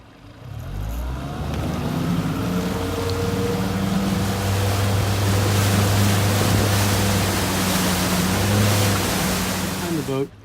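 Motorboat pulling a wakefoil rider on open water, its engine a steady, loud drone held close for the whole stretch along with rushing water noise; faint voices may be under the motor.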